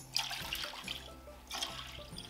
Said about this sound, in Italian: Aggiungiamo le nostre 3 tazze d'acqua